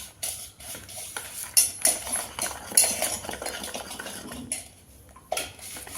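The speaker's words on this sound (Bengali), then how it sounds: "এইবার ইনোটা দিয়ে ভালো করে মিক্স করে নেব।" Cake batter being stirred by hand in a bowl after Eno is added, giving repeated scraping and clinking of a utensil against the dish in an irregular rhythm, close and moderately loud, with no talk.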